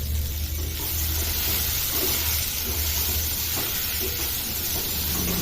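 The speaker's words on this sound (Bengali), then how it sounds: "ফোড়নটা লাল হয়ে যাওয়ার পর কেটে রাখা আলু এবং গাজর আগে দিয়ে ভেজে নেব।" Potatoes and carrots frying in hot oil with panch phoron, salt and turmeric, a loud steady hiss and sizzle running throughout with faint stirring scrapes underneath, close by and without voices.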